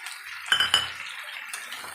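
Vegetables for sukto are stirred in a pan, giving two quick metallic clinks of a spoon against the pan and a soft scrape, close and brief amid near quiet.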